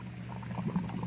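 Water bubbling in a homemade internal combustion reactor experiment used for water filtration, a soft continuous gurgle over a low steady hum, brief and fairly faint.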